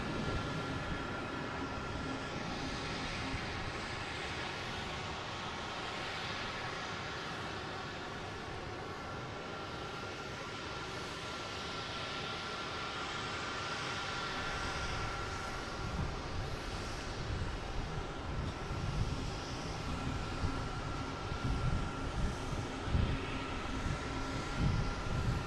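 JetBlue Airbus A220 departing Boston Logan International Airport for Denver, a broad, distant jet engine roar rumbling steadily and swelling louder toward the end, with no talking.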